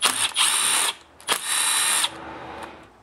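A power tool on a Stihl MS260 chainsaw spins off the 8mm nuts holding the carburetor, making two loud, close bursts of high whirring with a short pause between them.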